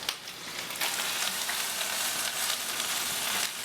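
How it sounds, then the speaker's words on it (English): Garlic sizzles in a hot pan, a steady, crackling hiss of frying that holds throughout at moderate loudness with no voices. "You can smell that garlic cooking up"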